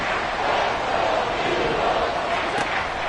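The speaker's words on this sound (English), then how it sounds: "Crowd getting in it a bit already." Football stadium crowd cheering at a game, a dense, steady roar of many voices that fills the whole moment.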